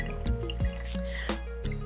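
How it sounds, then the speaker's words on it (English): Brewed coffee drips from a Hario V60 pour-over filter into the vessel below, producing a few distinct close drops and small liquid plinks over a quiet steady background. "so now I just gotta sit and let it continue to brew and finish dripping"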